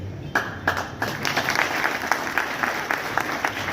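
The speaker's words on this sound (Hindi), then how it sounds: "जोर से ताली बजाइए, पीछे वाले ताली नहीं लगा रहे हैं।" An audience at a ceremony claps loudly and steadily, many hands together in a continuous patter with occasional sharper claps standing out nearby.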